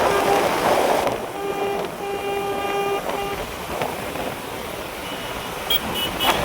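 Morning road traffic in Surat, with a car horn honking in a sustained toot for about two seconds amid the continuous rumble of passing vehicles, followed by more distant beeps.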